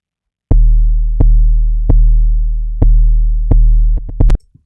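A trap 808 bass synthesized in Serum 2 and run through a saturator plays in mono. It hits with deep, sustained, booming notes in a slow pattern, then ends in a quick flurry of short hits.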